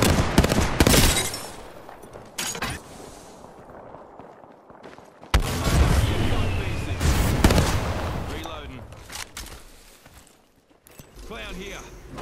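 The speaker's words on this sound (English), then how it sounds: "Knuckle clusters firing." Knuckle Cluster ordnance firing in Apex Legends, a loud volley of sharp popping bursts and bangs, then a quieter stretch and a second flurry of impacts, with a character's voice speaking over parts of it.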